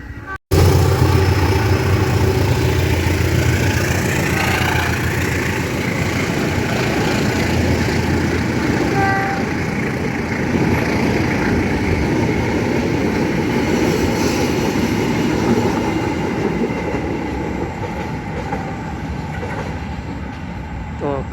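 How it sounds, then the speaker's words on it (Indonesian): A passenger train runs through Rajapolah station without stopping, a loud sustained rumble and clatter of wheels and cars rolling past close by for about twenty seconds, with a brief horn-like tone partway through. "kereta ini hanya lintasan saja, tidak berhenti di stasiun Raja Polah"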